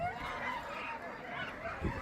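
Sled dogs from an eight-dog team at the start of a race in Tok, Alaska, give excited yips and whimpering barks, moderately close and continuous over outdoor noise.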